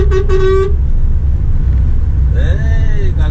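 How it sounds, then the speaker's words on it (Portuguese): A Volkswagen truck's horn sounds two toots, one short blast at the start and another about two seconds later, over a steady low engine and road rumble heard from inside the cab. "um buzinaço então pra essa galera aqui"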